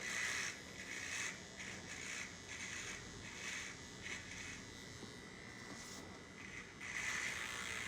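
A basic electric hair trimmer hums in short passes near the temple during an open-face fade haircut, a quiet buzzing that rises and dips as the blade is pressed and lifted, with no talking.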